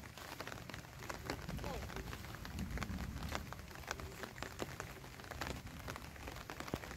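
Rain falls during a storm in the Sundarbans, a faint steady patter on surfaces with scattered sharper drips and taps throughout.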